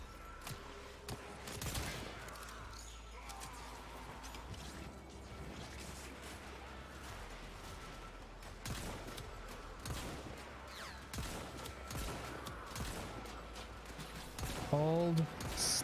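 Gunfire in the Warframe shooter game, a busy stream of shots and impacts with clattering mechanical noise running throughout, loud and fairly constant, with a sharper burst of tonal effects near the end.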